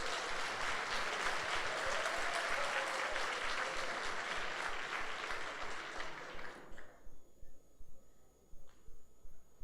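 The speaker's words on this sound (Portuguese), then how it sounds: "Dá um aplauso aí a Jesus." A Sunday church congregation claps in a thick, steady wash of applause that stops abruptly after about six seconds, leaving a few scattered faint sounds.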